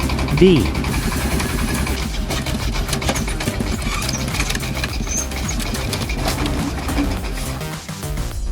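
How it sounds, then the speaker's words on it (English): A heavy timber truck engine clatters and rumbles steadily up close, a rough continuous mechanical chugging with a brief higher whine near the start, wheels grinding on rocks on a mountain forest track. "The sound of the engine clattering mixed with the sound of the wheels grinding on the rocks"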